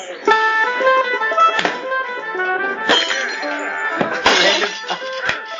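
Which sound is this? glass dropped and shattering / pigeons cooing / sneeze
glass dropped and shattering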